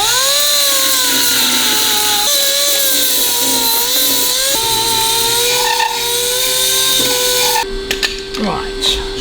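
A compressed-air tool runs loud and close during rust repair on a classic Saab, giving a steady whine that shifts pitch a few times before cutting out into brief clatter near the end.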